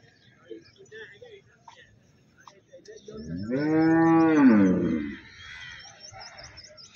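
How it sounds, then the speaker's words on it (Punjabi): A large buffalo at a livestock market in Chichawatni gives one long, loud, close moo lasting about two seconds, with faint bird chirps and quiet background sounds before and after. "ਮਾਸ਼ਾਅੱਲਾ ਬੜੀ ਵੱਡੀ ਸਾਰੀ ਮੱਝ ਆ,"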